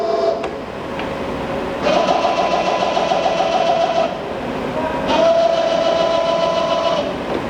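A Romi M23 CNC/manual flat-bed lathe with hardened, ground ways rapidly jogs its Z axis, giving two sustained whining motor runs with a steady tonal hum, separated by a pause, over continuous shop machinery noise.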